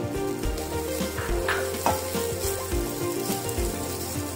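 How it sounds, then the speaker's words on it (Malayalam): Cooked rice being stirred into dry-roasted coconut in a hot pan for South Indian coconut rice, a steady close sizzle and fry with repeated spoon scrapes and stirring knocks throughout, no voices. "ഇനി അതിലേക്ക് നമ്മൾ 1 കപ്പ് കുക്ക് ചെയ്ത് വെച്ച റൈസ് ചേർത്ത് കൊടുക്കാം."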